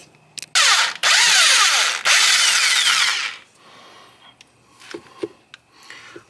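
A power tool buzzes loudly in two sustained bursts, with a brief start before them, as it spins out an 18mm rear strut bolt on an E46 BMW convertible, followed by quieter clinks of parts.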